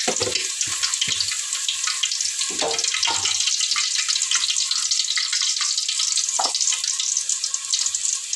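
Chicken frying in hot oil with turmeric and spices, a dense steady sizzle and hiss running throughout, with a few soft clinks and stirring knocks near the pan.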